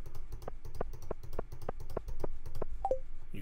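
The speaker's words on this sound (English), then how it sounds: "You guys heard how much my mad clicking technique there?" Rapid mouse clicking during a farming game session, a quick run of sharp, evenly spaced clicks close up and fairly loud, with no voice over them.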